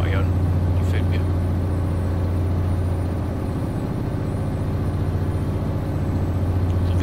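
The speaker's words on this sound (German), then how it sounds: "Also den Motorgeräusch ist für mich verdammt gut." Truck engine in Euro Truck Simulator 2, a steady, loud low drone running continuously with an even hum throughout, while someone talks over it.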